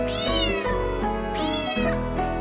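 A cat gives two drawn-out, rising-and-falling meows, loud and close, over steady background music in a children's nursery rhyme about a black pet cat with blue eyes.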